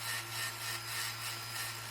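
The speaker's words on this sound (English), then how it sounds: "running texture with a ball burr is" A small ball burr, roughly 1.2 mm, grinds a texture into metal with a close, steady high-pitched whir, its scratchy rasp swelling and fading in a gentle rhythm.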